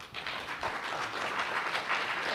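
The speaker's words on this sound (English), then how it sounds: "please give the panelists a round of applause" Audience applause for panelists closing a finance summit session, a moderately quiet, continuous patter of many hands clapping with slight swells, no voices over it.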